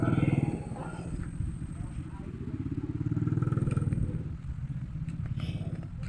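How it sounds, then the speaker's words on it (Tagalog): A motorcycle rides over a hanging bridge in Malbugon, Libmanan, Camarines Sur, its low engine drone and clattering planks rising and falling nearby, with a person talking over it. "Ayan, so ayan, may nag-aagi ning motor."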